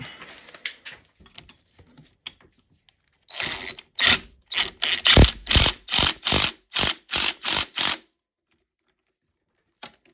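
Ratchet wrench tightening the track bolts on a 1970 Auto Ski 300 snowmobile during new track installation: a few scattered clicks, then about ten evenly spaced, loud ratcheting bursts in steady rhythm, close up, ending in silence.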